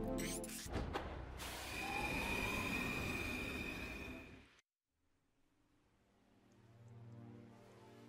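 A subway train in the video game Void and Meddler rumbles loudly with squealing wheels for about four seconds, then cuts out abruptly, leaving a low, quieter hum that swells again toward the end.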